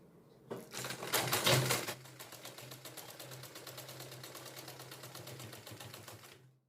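Domestic sewing machine stitching the side slits of a collar-neck kurti: a fast, steady run of needle clatter, louder in a short burst near the start, then continuing at an even pace close by, no voices.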